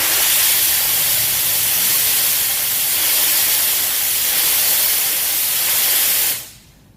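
An SV8D steam cleaner vents a steady, loud jet of hissing steam close by for several seconds before it cuts off abruptly, leaving near silence.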